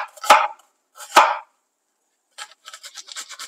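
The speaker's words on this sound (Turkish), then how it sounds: "Bunun için bir adet kuru soğanımı yemeklik olarak güzelce doğruyorum." A dry onion is chopped on a cutting board: two distinct knife strokes, then a quick run of lighter, rapid cuts, close and fairly loud.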